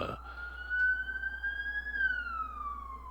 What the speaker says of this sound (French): vous avez entendu une sirène, ça voyage le matin en face du bureau